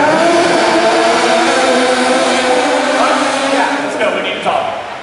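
A stunt car drives behind a film set at a Hollywood Studios stunt show at Disney World, its engine revving loudly and continuously near at hand amid crowd noise, with the sound fading slightly at the end.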